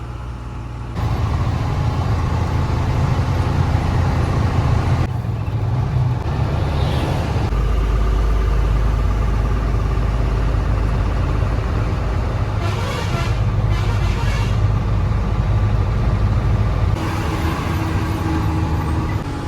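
A vehicle engine drones steadily while descending a mountain ghat road near Udupi, with a loud continuous low rumble that shifts in tone a few times, heard from inside the cabin.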